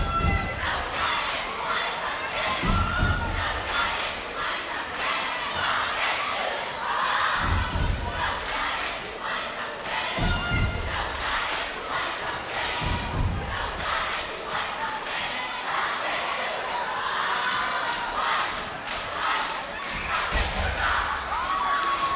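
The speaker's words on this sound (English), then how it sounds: "Two cheer squads been going back and forth all night, bringing the energy." Crowd cheering and chanting at a high school boys basketball game, McKeesport at Gateway, with two rival cheer squads trading loud rhythmic shouts and thumping stomps back and forth, a dense continuous roar filling the gym.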